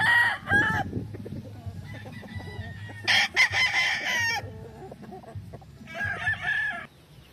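A yellow-legged hatch gamecock broodcock rooster crows loudly and nearby three times, with clucking and other farmyard sounds between the crows and a little faint talk.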